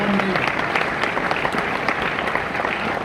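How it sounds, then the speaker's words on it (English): A comedy club crowd applauds a comedian, loud, dense clapping held steadily throughout, with a voice briefly heard at the start. "a round of applause for Booth B. Graffo."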